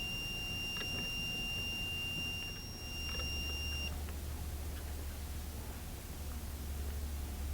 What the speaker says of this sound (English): I've turned the screw clockwise until the beeping stopped